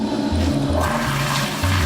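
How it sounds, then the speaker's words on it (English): A toilet flushes with a steady, loud rush of water that carries on throughout, heard close up with no talk. "It kept flushing and flushing, just repeating over and over."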